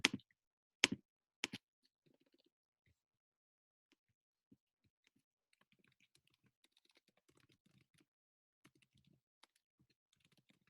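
Typing on a computer keyboard during an online revision session, a few loud key strikes at the start followed by a long run of soft, scattered clicks close to the microphone, no talking.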